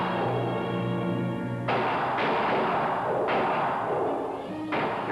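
Several loud, sharp gunshots or heavy impacts strike at a monster-movie villain in quick succession, each a hard broadband crack over a dense, noisy background.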